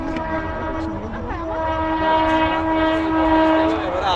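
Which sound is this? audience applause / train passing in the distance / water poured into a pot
train passing in the distance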